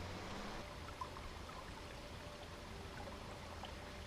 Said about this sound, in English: by this little creek.